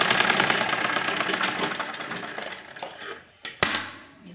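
A sewing machine stitching a frill onto a baby dress, its needle chattering in a fast steady rhythm that gradually slows and stops, followed by a couple of sharp clicks.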